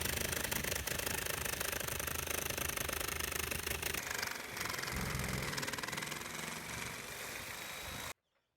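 A power tool cuts a hole in a boat hatch for a skylight, giving a loud, continuous buzzing drone that shifts pitch partway through and stops abruptly at the end.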